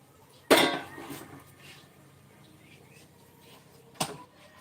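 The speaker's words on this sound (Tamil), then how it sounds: "பாத்திரம் கழுவணும்" Two sharp clatters of metal dishes and pots, one loud near the start and another a few seconds later, with faint rustling between.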